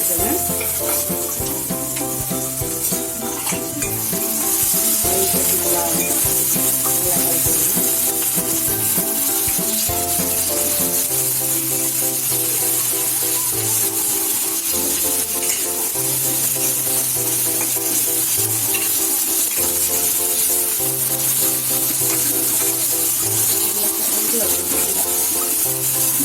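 Ginger and garlic fry in a pan for a cauliflower and pea masala, a steady loud sizzle with repeated scraping strokes of a spoon stirring, while music plays along underneath.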